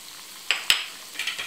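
Fenugreek seeds, asafoetida and crushed mustard seeds dropped into hot oil for a raw mango pickle tempering, giving faint sizzling with a few sharp crackling pops and a clink of utensils.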